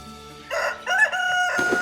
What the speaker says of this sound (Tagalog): Tilaok lang ng manok yung narinig mo.